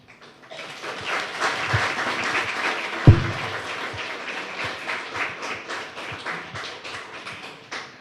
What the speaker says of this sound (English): We give him a round of applause one more time.